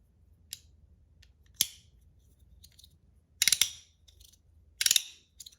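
A PEI and aluminum Battle Master fidget toy with tape on it makes a few sharp, close metallic clicks and snaps, spaced apart with quiet gaps between them.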